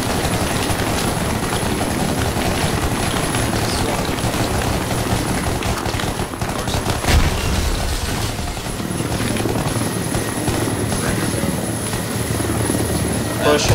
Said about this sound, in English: Blackhawk landing on radio tower.